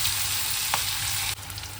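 Onion tipped into hot oil already holding cumin seeds and asafoetida, a loud, dense, continuous sizzle close by that drops slightly in level partway through, with no speech.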